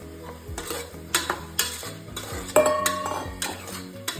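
Soaked soya chunks being stirred into a tomato masala for South Indian tomato rice, with repeated metal spoon scrapes and clinks against the pan over a low sizzle, close and moderately loud, no voices.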